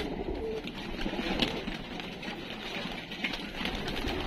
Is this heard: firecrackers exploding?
no